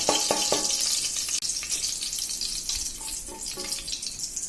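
Cinnamon, cloves and cardamom frying in oil in a pan while making tomato rice, a close sizzling crackle with clinks of stirring, loud at first and easing slightly toward the end.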